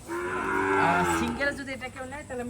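Fleckvieh cattle on a farm give a loud, close, drawn-out moo lasting about a second, followed by shorter lowing sounds and faint background voices.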